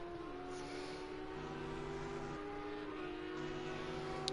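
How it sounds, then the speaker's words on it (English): A Porsche race car roars down the straight at Circuit of the Americas during practice, its steady, sustained engine tone holding a high pitch with slight shifts, heard at moderate distance and fairly faint. "one of the Porsches is going down the straight, as we could hear that distinctive engine tone"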